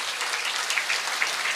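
Steady clapping from a sizable group of Islamic school students at a religious gathering, a dense continuous patter of applause at moderate volume with no voices over it.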